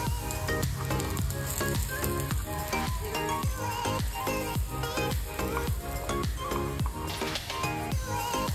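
Snacks frying in oil in a pan while being stirred, with a steady loud sizzle and repeated scraping strokes of the spoon against the pan.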